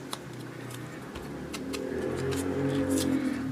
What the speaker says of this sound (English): Sorry about the traffic noise, I just had to open the window.